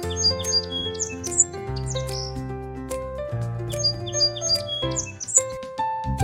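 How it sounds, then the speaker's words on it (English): A sparrow, a tiny brown garden bird, chirps in quick bright bursts over a soft musical backing, with the calls repeated in short clusters throughout. "Sparrow, a tiny brown bird. It loves to chirp and hop around the garden."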